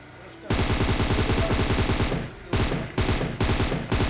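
Rapid automatic gunfire from a shooter video game rattles in long sustained bursts, loud and close, broken by short pauses between volleys.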